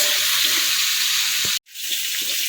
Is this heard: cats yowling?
no